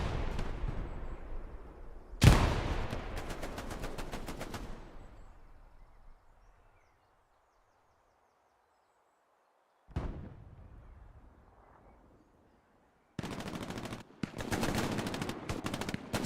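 Grenade explosions and rapid gunfire in a Hell Let Loose match: a sharp loud blast, then dense bursts of automatic fire that fade to silence, followed by one short crack and another stretch of sustained automatic fire.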